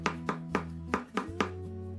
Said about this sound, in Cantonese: 挖出嚟嘅茄子切碎。